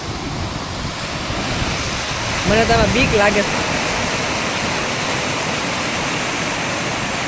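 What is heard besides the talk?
rushing water of a flooded stream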